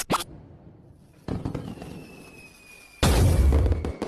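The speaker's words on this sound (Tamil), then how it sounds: "இங்க பட்டாசு வெடிக்காதீங்க" Firecrackers burst in a short sequence: a sharp crack at the start, a scattered crackle after a pause, then a loud heavy blast with a booming tail, all close by.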